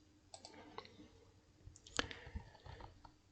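Several light, sharp clicks from a computer mouse used to operate CAD software on a workstation, scattered irregularly across a quiet room, near and faint, with one crisper click standing out midway.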